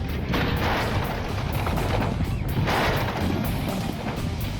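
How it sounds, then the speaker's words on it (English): A staged apartment explosion fills the air with a loud, sustained roar of blast noise and crashing debris, dense and rumbling throughout with no talking. "One magnificent, made-to-order apartment explosion."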